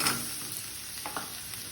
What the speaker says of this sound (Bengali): একটু একটু করে তেল দিয়ে ভাজবো এবার এগুলোকে, তারপর ভাজা হোক এগুলো।